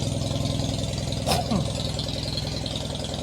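An old tractor engine idles close by with a steady low, throbbing rumble, while people talk over it.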